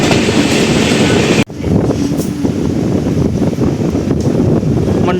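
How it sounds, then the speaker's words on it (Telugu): The Andaman Express runs at speed with a loud, steady rumble and wind rush, broken by one sharp drop and bang before the roar resumes with faint rhythmic clatter. "దాటాక ట్రైన్ అయితే స్పీడ్ అందుకుంది."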